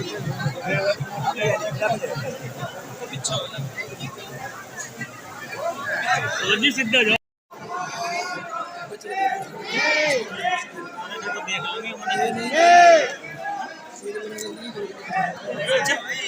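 Crowd chatter from a village trip: a steady hubbub of many overlapping voices with closer speech on top, a short gap midway, then the babble resumes with a few louder nearby calls.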